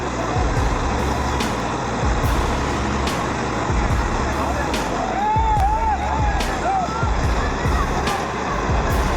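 Two farm tractors, a Z-Door and a Fendt, strain against each other in a tug of war over 10,000 pounds, with a steady heavy engine drone, some high tonal whines and faint voices.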